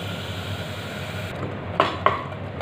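Masala of turmeric, coriander powder, salt, chilli and garam masala being fried in a pan for a kofta and potato curry. A low steady sizzle runs under two sharp utensil clanks against the pan near the end.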